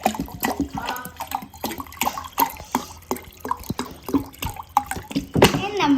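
Cold water splashes and trickles into a container while a lemon drink is prepared in a home kitchen, with irregular drips and gurgles and brief voices in the background.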